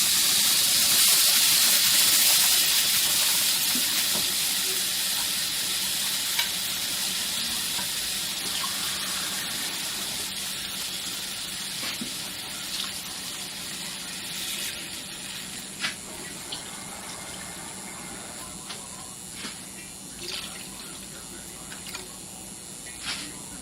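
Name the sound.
water poured into hot pan with rice and tomato sauce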